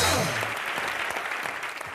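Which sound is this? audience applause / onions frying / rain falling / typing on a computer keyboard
audience applause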